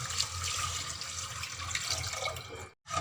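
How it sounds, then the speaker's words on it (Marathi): Four bowls of water pour into moong dal khichdi in a pot, a steady close splashing gush that runs on and then briefly cuts off near the end. "आता चार वाट्या पाणी टाकते"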